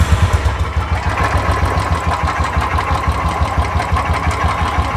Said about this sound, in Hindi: मैं आपको सबसे पहले इसकी आवाज़ सुनाता हूँ कि कैसी साउंड है इंजन की